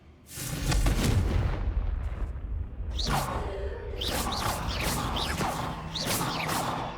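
A Confringo blasting-curse explosion in Hogwarts Legacy, a loud booming blast with a whooshing burst, followed by further crackling impacts and swishes fading over several seconds.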